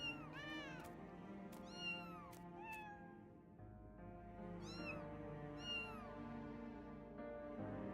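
Cats meowing in the video game Final Fantasy XIV, several close, clear meows in quick succession over a soft orchestral game soundtrack, with a pause and then more meows.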